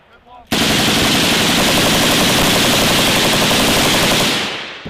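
Sustained automatic gunfire from a Marine company's large-scale live-fire exercise, a dense, loud continuous burst of rapid shots starting abruptly and rolling on for several seconds before tapering off.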